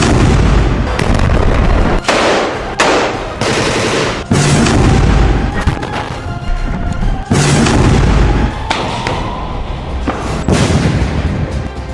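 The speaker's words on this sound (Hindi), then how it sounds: "air strike," Heavy explosions from airstrikes and tank shelling in Gaza boom repeatedly and loudly, several large blasts with rolling rumble and debris noise between them, no talk.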